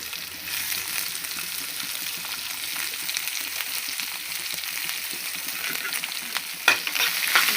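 Onions and dried red chilies sauté in a pan for a moong dal dish, a steady close sizzle broken by frequent scraping stirs, with one sharper clack near the end.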